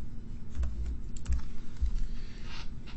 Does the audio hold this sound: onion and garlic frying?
no